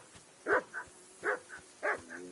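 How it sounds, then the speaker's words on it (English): A dog barks in Kingdom Come: Deliverance II, giving three paired bursts of barks spaced about evenly. The barks are muffled and moderately distant over a low background hum, with no talking. "I assume you can hear that damn dog of yours barking."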